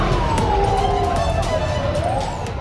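A fire engine's wailing siren sweeps slowly downward and rises again, loud and fairly close, over a rumble of traffic and engine noise, at a market fire in Payakumbuh, West Sumatra.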